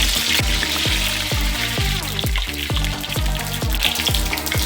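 Curry leaves crackle and sizzle in hot coconut oil, a steady close-up frying hiss with repeated sharp pops and spits throughout, no voices.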